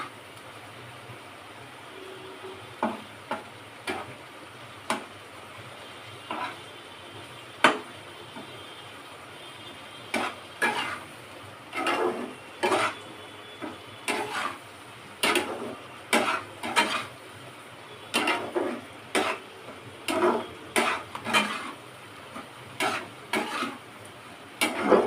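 Tomatoes cook in a pan for a loitta fish dish, with a quiet sizzle under frequent sharp scraping stirs that come in irregular clusters.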